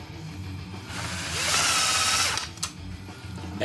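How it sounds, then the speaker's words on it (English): A power drill whirs briefly, rising to a strong high buzz for about a second as a screw is driven into a truss stand mount bracket, then stops; close and fairly quiet overall. "then we'll just drill them in just like this"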